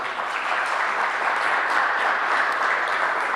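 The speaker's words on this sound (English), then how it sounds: "Give her another big round of applause" Applause from an audience at a launch event, a steady dense wash of clapping that holds evenly throughout, fairly loud and close with no talk over it.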